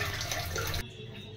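A tap pours water over eggplant and cauliflower soaking in salted water, a steady close rush that cuts off abruptly, leaving a quiet room tone.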